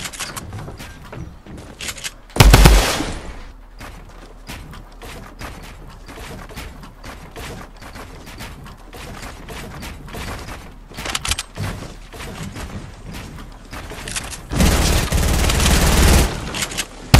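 Suppressed SCAR rifle in Fortnite fires rapid, muffled bursts throughout a steady stream of game action, with louder blasts and rushes of noise near the start and end.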